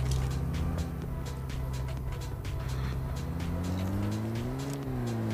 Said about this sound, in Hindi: ओ भाई गाड़ी आई, गाड़ी आई,